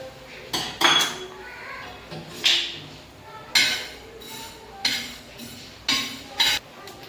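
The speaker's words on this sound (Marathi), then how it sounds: "तवा गरम झाल्यानंतर त्यामध्ये तीळ टाकून भाजून घेऊ।" Sesame seeds being roasted on a hot tawa griddle, heard as a series of separate metallic scrapes and clinks, each a short burst, spaced roughly half a second to a second apart and fairly close.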